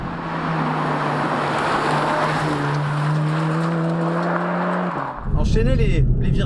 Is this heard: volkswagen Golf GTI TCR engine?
yes